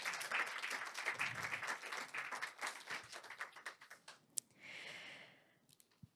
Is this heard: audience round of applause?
yes